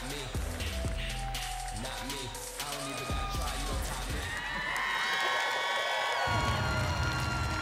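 A crowd cheers, whistles and applauds at a bodybuilding night show at the Olympia Weekend, a broad, sustained roar of an arena audience that swells louder toward the end with scattered whoops over the continuous din.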